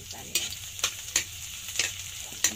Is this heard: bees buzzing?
no